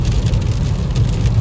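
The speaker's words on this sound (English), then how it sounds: "we'll see here if the rain continues picking up" Heavy rain drums steadily on a 2023 Nissan Versa S manual driving a highway in high wind, a dense continuous wash of drops over low road and engine rumble, with no talking.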